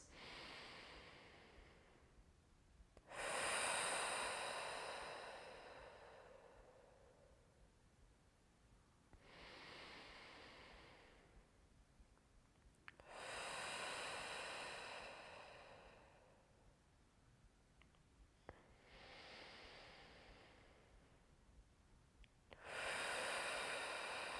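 Slow, deep breaths in and out through the nose during a wind-down at the end of a full body stretch routine, four long airy swells of breath separated by quiet pauses, close and soft with no talking.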